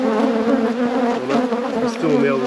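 Honey bees swarm around an open beehive in a dense, continuous buzz of many wings, close and loud, with pitch wavering as individual bees pass near.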